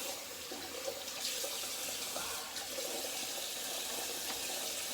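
Cold water pours steadily from a tap into a sink during a shave, a continuous quiet splashing stream with no voices.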